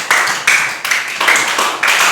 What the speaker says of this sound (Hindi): ताली बजाइए सारे लोग।